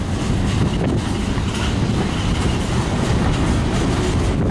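A CN SD70ACE locomotive hauls a freight train past in Minneapolis, a loud continuous rumble of wheels and rail clatter with wind buffeting the microphone throughout.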